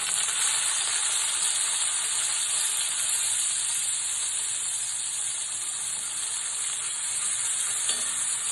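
Chopped tomatoes frying in a hot pan for a vegetarian paneer and vegetable dish, giving a loud, steady, close sizzle and hiss that runs without a break.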